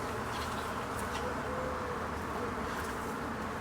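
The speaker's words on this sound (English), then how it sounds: "that is a swarm of bees" A wild swarm of bees buzzes in a dense, continuous hum close by, steady and loud throughout, with no voices.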